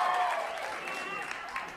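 A stand-up comedy audience gives a brief burst of clapping that fades quickly, heard under background chatter.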